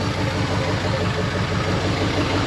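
An old Dodge Sweptline pickup truck's engine, restarted after 25 years of sitting, idles steadily and loudly close by, a continuous low rumble with a faint rhythmic pulse and no break throughout.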